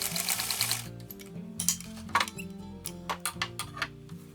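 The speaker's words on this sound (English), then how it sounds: "edge stitch the opening closed" A sewing machine edge stitches the opening of reversible lined pants closed, made of mustard corduroy and plaid cotton flannel, with a fast steady whir followed by a run of short mechanical ticks and clicks, close up.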